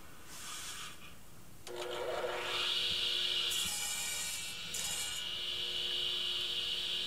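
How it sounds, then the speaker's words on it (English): A power saw cuts wooden blocks from a blank, first a hand-rubbing rasp, then a sustained high whine with a steady hum underneath as the blade runs through the wood. "So now are you cutting the blocks?"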